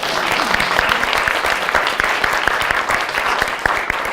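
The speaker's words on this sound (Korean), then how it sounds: "이분에 박수 한번 보냅시다." Audience applause at a future-education forum lecture, a dense, steady wash of many hands clapping at once, fairly loud and sustained for several seconds with no talking over it.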